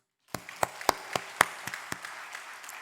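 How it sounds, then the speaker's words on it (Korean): A church congregation applauds, starting abruptly with a handful of distinct, fairly sharp claps that recur at a loose rhythm, then thin into lighter scattered clapping. "하나님께 영광의 박수."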